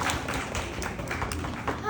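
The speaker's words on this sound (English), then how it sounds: "Big round of applause for our volunteer." Museum show audience clapping for a volunteer, a brief burst of brisk, close applause with some voices mixed in, tapering slightly toward the end.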